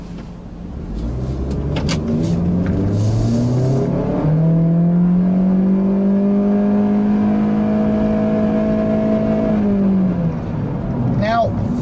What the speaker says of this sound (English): This is the first time I'm driving the refreshed Civic with the CVT transmission